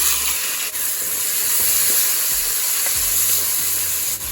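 Loud, continuous sizzling and spitting of tomatoes frying in a hot pan, with a few faint clinks of stirring, no talking.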